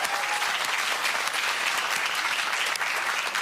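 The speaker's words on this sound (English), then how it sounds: "Round of applause" A studio audience on the Australian quiz show Pointless applauds, a full, steady wash of clapping holding at an even level throughout.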